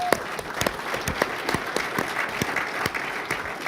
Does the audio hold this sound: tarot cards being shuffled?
no